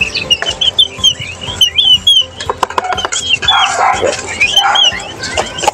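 Chickens cluck and chirp repeatedly in a lively flock calling for feed, with higher calls and some scattered clatter, fairly close by.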